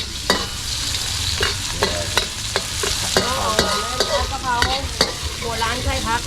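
A Thai holy basil stir-fry, pad kaprao, sizzles steadily in a pan while a utensil scrapes and clacks against the metal in repeated stirring strokes, close and loud.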